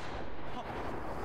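A large toy cannon blaster fires in The Quarry, letting out one loud, close, booming blast with a broad rumbling body that fills the whole moment.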